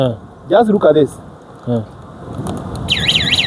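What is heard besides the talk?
motorcycle alarm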